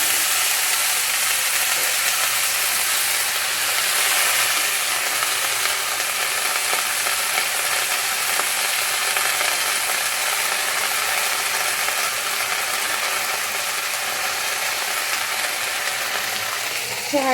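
Fenugreek greens (methi bhaji) with garlic frying in a pan give a steady, dense sizzle and crackle that runs unbroken at an even loudness from start to finish, with no voices.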